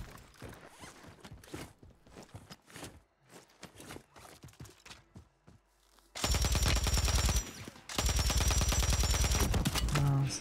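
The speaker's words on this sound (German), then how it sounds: "irgendwo Leute geschossen. Oh, da sniped einer." Gunfire in the Warzone video game: a run of sharp, close shots and footstep-like clatter, followed by two long, loud, dense bursts of firing near the end, with no voices.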